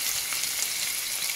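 Onions and a garlic clove sizzle in a pan for a spinach and salmon risotto, a bright continuous crackle of frying that stays steady and close throughout.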